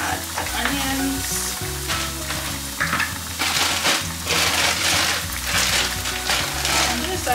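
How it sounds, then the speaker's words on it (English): Onions fry in a pan after salmon has cooked, crackling loudly and constantly with stirring and scraping, over a low rhythmic musical background. "So I'm gonna add the onions."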